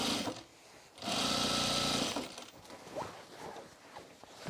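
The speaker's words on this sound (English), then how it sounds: "Sew the side seam here" A sewing machine runs one short, loud burst of about a second while stitching the side seam of overalls. Quieter handling noises and small rustles come before and after it.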